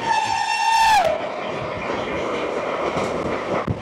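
The Sealdah-Bikaner Duronto Express (12259) opens with a loud horn blast that drops in pitch after a second. A fast, steady rolling roar and clatter follow, heard close from the doorway with no speech.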